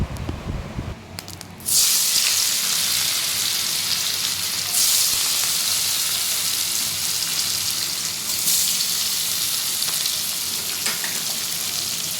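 Paneer dropped into hot oil in a pan: a loud, dense hiss bursts in after a couple of seconds of clatter and then holds steady and close, swelling a few times.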